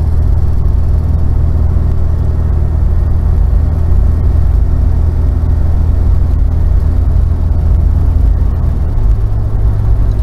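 A 1991 Ford Explorer with an A4LD automatic transmission drives along, heard from inside as a loud, unbroken low rumble and road drone. A slight change in engine tone comes near the end, and no one talks.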